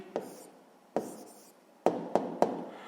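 Pen strokes scratch across paper while a math answer is written down, a few short bursts with pauses between them, close and quiet with no talk.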